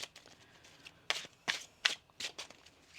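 Tarot cards being shuffled by hand in a series of four or five crisp riffling bursts, each brief and close, with quiet pauses between.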